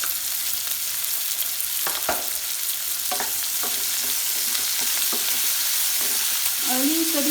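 Onion, ginger, garlic and a little turmeric frying in oil for momo filling: a steady close sizzle with occasional stirring scrapes and clicks from the pan, no talking.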